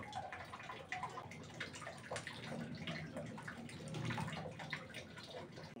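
A small decorative garden fountain runs quietly, water trickling and splashing in a steady, faint continuous stream.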